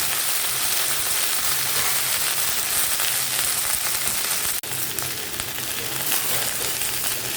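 Coriander leaves sauté in hot oil with onion, garlic and dried chili for a chutney, a loud, steady close-up sizzle with a brief dip midway, no one talking.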